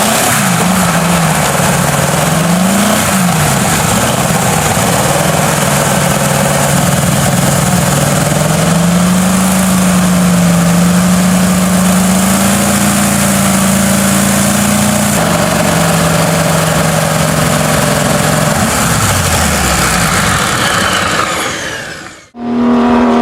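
A 1940s Wright R-3350 Duplex Cyclone, an 18-cylinder 54.9-liter radial aircraft engine, runs with a loud, continuous throbbing drone whose pitch drifts up and down, then drops away sharply near the end with a short break.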